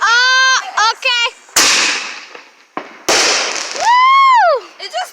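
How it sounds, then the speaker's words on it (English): Fireworks at an outdoor show burst in a few loud, sharp booms with crackling tails, mixed with excited voices and cheering between the blasts. "there's a lot of force in the fireworks"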